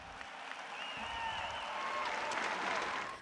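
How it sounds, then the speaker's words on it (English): Graduating peers at a graduation ceremony applaud a speech, a broad wash of distant clapping and crowd noise swelling slightly and holding, heard from afar. "hearing the roaring applause from her peers"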